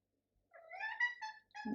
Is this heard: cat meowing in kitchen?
yes